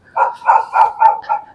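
A dog barks five times in a steady rhythm outdoors near a seaside grave site, loud and close with nothing else heard.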